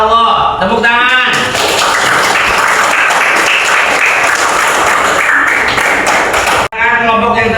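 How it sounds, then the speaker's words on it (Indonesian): A classroom of students bursts into loud, sustained clapping that lasts several seconds, with brief speaking voices before and after. "Tepuk tangan."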